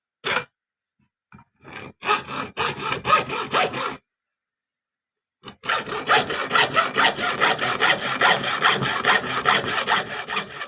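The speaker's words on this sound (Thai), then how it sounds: "ก็เลื่อยตัดเหล็กนี่ก็ตัดไปครับตัดมาเป็นหน้านี้" A hacksaw cuts steel for a durian knife blade with steady back-and-forth strokes, a brief burst first, then a pause, then a long run of fast rasping strokes, close and loud.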